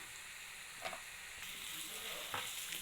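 Radish fry seasoned with chili powder and salt being stirred in a pan, a soft continuous sizzle with a couple of faint scraping strokes of the spoon, fairly quiet.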